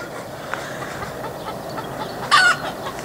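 Chickens cluck faintly in the background over outdoor ambience in a vegetable garden and orchard in the Drôme in April, with one louder, sharper cluck briefly standing out near the end.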